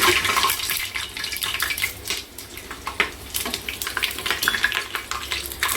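Whole spices fry in ghee for homemade chicken biryani, a continuous close crackle and hiss with uneven bursts and occasional stirring scrapes throughout, no talk.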